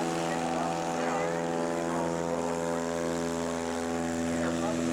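Small bush plane with big tires lifting off a sandbar runway in Alaska, its engine and propeller holding a constant, droning hum at a middle distance throughout.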